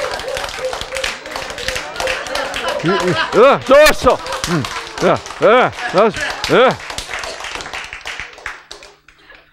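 Clapping at a lecture hall talk, a burst of brisk rhythmic hand claps heard close and loud, mixed with a lively speaking voice and exclamations over the top.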